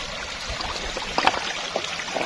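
Water from a rocky stream by a riverbank flows steadily, with a close, broadband rushing wash and small splashy trickles and gurgles running through it, with no voices.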